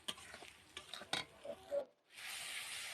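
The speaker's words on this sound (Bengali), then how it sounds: "টমেটো কুচি দিয়ে হালকা জল দিয়ে মশলাটাকে কষিয়ে নিলাম।" Spice masala with chopped tomato and a little water being stirred and sautéed in a pan for a chicken and potato curry, quick scraping stirs and soft sizzling, then a steady hiss after a brief pause.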